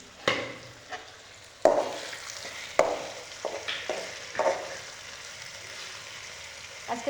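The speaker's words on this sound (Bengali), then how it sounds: "আজকে এখন এসে পেঁয়াজ ভাজতেছি, আমার বাবার জন্য রাঁধবো।" Onions sizzle steadily in a frying pan, broken by sharp clanks and scrapes of a spatula against the metal at irregular intervals.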